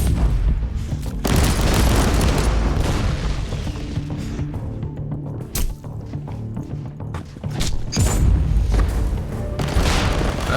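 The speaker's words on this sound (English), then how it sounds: "I see those rockets from that marine just blowing me off my legs there." Rocket blasts from a space marine in Inquisitor Martyr, a dense run of loud, booming explosions and thuds rolling over one another, with brief dips between heavy bursts.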